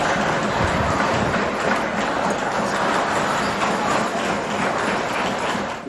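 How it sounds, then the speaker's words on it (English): Dozens of children hammering together in a classroom, a dense clattering wash of overlapping metallic taps, loud and continuous with no single blow standing out. "75 kids hammering at the same time"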